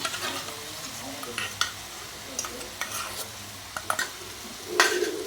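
Spiced masala with salt and curd frying in a pan for Bengali rui fish kalia, soft sizzling under repeated scraping strokes of a spoon, with a louder stir near the end.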